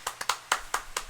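Hands clapping in a quick uneven run of about six sharp, close claps, each a crisp slap with nothing in between.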